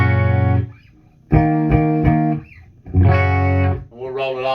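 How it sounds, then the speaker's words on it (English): Electric guitar on the bridge pickup through a Crate GT3500H solid state head with super distortion, bass turned fully up, bright saturated chords struck and sustained in several bursts with pauses, loud and close. "We're just using the bridge, that's why it's so bright with the super distortion."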